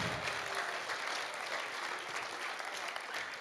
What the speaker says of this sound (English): should we just give them a round of applause for just doing a good job?